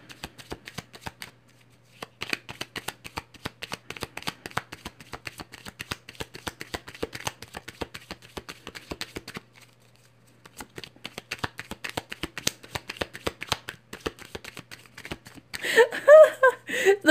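Tarot cards are shuffled by hand close up in quick riffling bursts of crisp papery flicks, with two short pauses, then a brief voice near the end.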